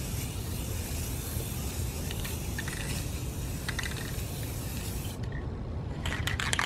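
A spray can hisses continuously as a broad steady stream, then stops near the end, leaving a few short clicks and scrapes.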